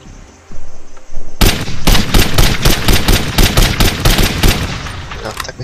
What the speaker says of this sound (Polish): tak myślałem, że te beczki wybuchną, są czerwone w końcu, a czerwone zawsze wybuchają